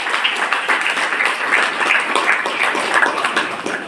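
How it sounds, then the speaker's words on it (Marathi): An audience of students at a career guidance camp applauds: dense, steady clapping holds at an even level for the whole stretch and fades slightly at the end. "टाळ्या वाजवा."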